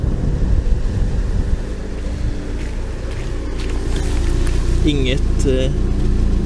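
Saab 99 engine idling after being started, a steady low rumble with wind buffeting the microphone, brief squeaky tones near the end, and a short spoken word.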